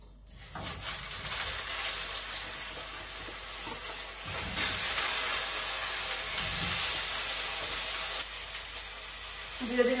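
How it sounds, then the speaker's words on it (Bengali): Potatoes fry in hot oil with bay leaf and white cumin, giving a loud, steady sizzle that swells and softens slightly as they are turned. "এখন এই যে আলুটা দিয়ে এটা কষাই নিব আগে।"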